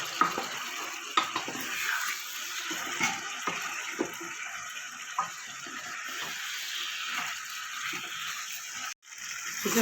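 Kashmiri chilli powder and roasted ground spice masala sizzle and fry in a pan for dry restaurant-style chicken chilli, a steady close hiss broken by scattered soft scrapes and taps of stirring.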